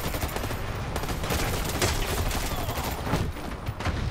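Turret gunfire in the online shooter Dirty Bomb rattles on continuously as a dense fusillade of rapid shots, steady and fairly loud throughout.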